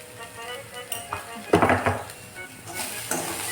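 Chili flakes and oregano sauté in a pan with a soft continuous sizzle, broken by a few spoon scrapes and clinks as the mixture is stirred, close and moderately quiet.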